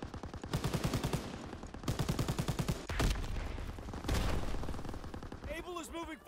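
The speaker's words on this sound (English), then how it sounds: "Keep firing!" Rapid bursts of automatic gunfire in a war video game, loud and sustained with a couple of heavier blasts, while voices shout over the shooting.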